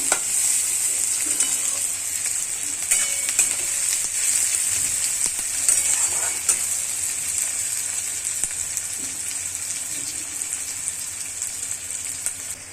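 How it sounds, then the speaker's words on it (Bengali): Onions frying in a pan for a spicy katla fish curry with mustard and eggplant, giving a loud, continuous hiss and crackle close up, with occasional soft stirring scrapes. "ভালো করে পেঁয়াজটা ভেজে নেব।"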